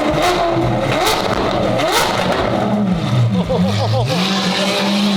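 A car engine revs hard in repeated rising and falling surges, loud and close, with excited voices shouting over it.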